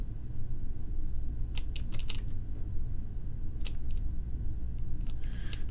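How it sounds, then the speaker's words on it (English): Several sharp clicks from a computer keyboard as backspace is pressed, a few spaced keystrokes and a short cluster over a low steady hum, close and fairly quiet. "I'm just going to hit backspace there."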